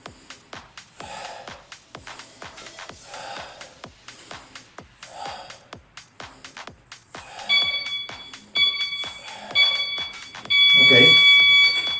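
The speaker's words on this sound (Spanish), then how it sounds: "Suena el pitido y cambiamos." Rhythmic exercise thumps and breathing give way to a loud electronic interval-timer beep that sounds several times, with a final long, steady beep near the end.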